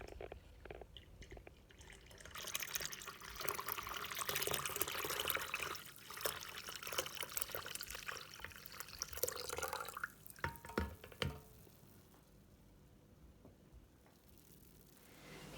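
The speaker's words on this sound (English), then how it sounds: "We're going to add our 1 liter of cold water." Cold water and then tea are poured into a pitcher for a homemade pink drink, giving a continuous splashing pour that swells and wavers for several seconds, then tapers into a few drips and quiet, with no speech.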